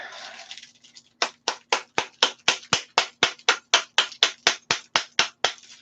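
Sharp, regular taps of a makeshift hammer on a Tevo Tarantula Pro 3D printer part ring out close and clear, about twenty even strikes in a steady rhythm after a short pause.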